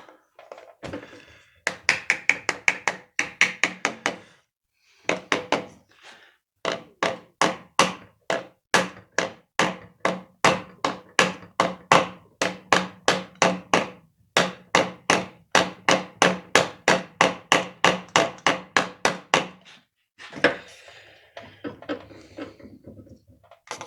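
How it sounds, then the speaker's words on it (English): Crankshaft seal on a Briggs & Stratton opposed-twin engine being tapped into place with a hammer, producing a long run of sharp, evenly spaced knocks in quick rhythmic bursts with brief pauses, close and clear, no talk. "Maybe tap it in there just a little bit more."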